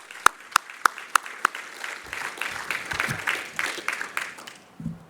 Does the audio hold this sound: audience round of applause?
yes